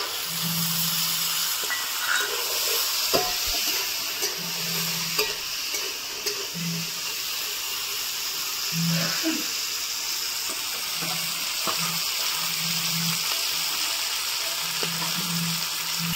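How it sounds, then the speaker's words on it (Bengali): Crab frying in a pan with onion, garlic and peas, a steady hissing sizzle broken by periodic stirring scrapes and low knocks of the spatula. "কাঁকড়া প্রায় ভাজা হয়ে গেছে, আর এই কাঁকড়ার উপরে আর মটরশুঁটিটাও ভেজে নেবো একসঙ্গে।"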